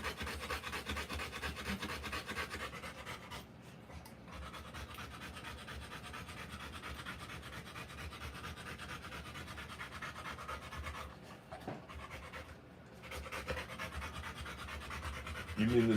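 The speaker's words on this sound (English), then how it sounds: "You mean the noise? That's her panting, Muggsy." A Rottweiler dog pants steadily while giving birth, a continuous close rasping breath rhythm that runs throughout with only brief pauses.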